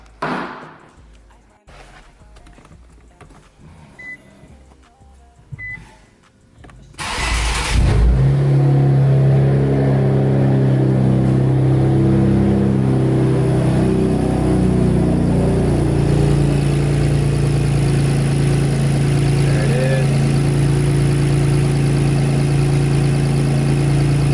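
A few quiet clicks and rustles, then an Infiniti Q50/Q60 engine cranks and catches, settling into a loud, steady idle that fills the rest of the stretch.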